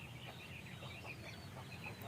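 Native village hens and broiler chickens at a small rural poultry farm cluck softly and repeatedly, faint and somewhat distant over a steady background.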